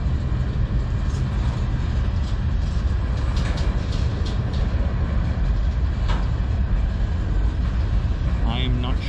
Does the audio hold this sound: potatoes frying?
no